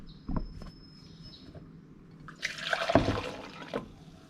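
Starbucks Americano brewed in a Dolce Gusto Lumio capsule machine is poured out, a short splashing liquid gush after a few faint clinks, fairly close and alone.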